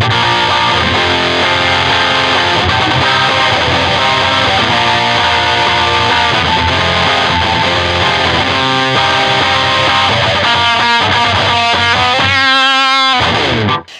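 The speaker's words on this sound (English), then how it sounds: "I use patch C, which is the overdrive distortion" Electric guitar through an overdrive distortion patch plays the verse riff of a song, loud, dense and sustained for about fourteen seconds before cutting off abruptly.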